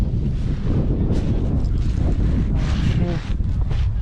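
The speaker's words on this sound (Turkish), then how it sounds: "şu ağaçlardan anladığım kadarıyla kuzeyden bir rüzgar esiyor" Steady wind rushes and buffets across the whole stretch on open water while sailing near Motuarohia Island, loud and close, with faint splashing underneath.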